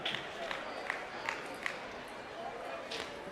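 Crowd at a table tennis match at the South African Open applauding a point, a faint, distant patter of clapping and murmuring that carries on for a few seconds.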